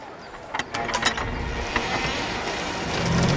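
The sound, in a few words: heavy gate mechanism opening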